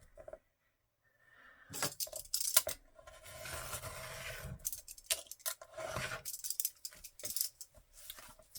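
Scissors cut the top off an item with a run of close snipping and scraping sounds after a brief silence, rustling irregularly throughout.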